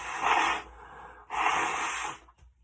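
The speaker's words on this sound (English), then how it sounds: "Let me blow my nose." A person blowing their nose in two strong, breathy bursts, each lasting about half a second, close and loud with a short pause between them.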